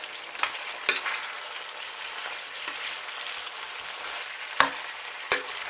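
Pinakbet vegetables with chili stirred in a frying pan: a continuous close sizzle broken by a handful of sharp utensil clacks against the pan.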